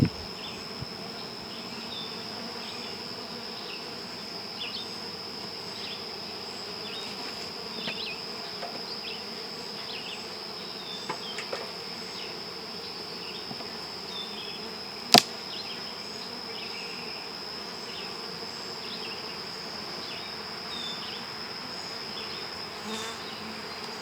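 A honeybee colony of moderate size hums at an open hive during inspection, a steady close buzz with individual bees whizzing past and a few faint clicks and one sharp knock.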